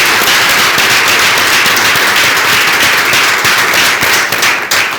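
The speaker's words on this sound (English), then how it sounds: "I really would like to have a big round of applause for 200 people that made this possible" Large lecture audience applauding for a black hole imaging team, a loud, dense and steady wash of many hands clapping that continues for the whole stretch with no talk over it.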